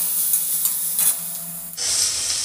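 Garlic and green chillies sizzle loudly in a hot pan with stirring scrapes, a steady frying hiss that briefly dips and then surges louder and brighter near the end, for a banana-flower dish.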